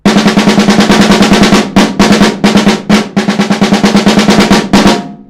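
Snare drum played in a rapid, even rhythm across a four-bar phrase, swelling in loudness then easing back, with brief gaps between groups of strokes; close and loud with no talking.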